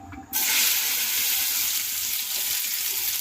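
Okra hisses and crackles steadily in hot oil in a home kitchen, a loud, dense sizzle that starts abruptly after a brief quiet moment and continues unbroken, with no voices.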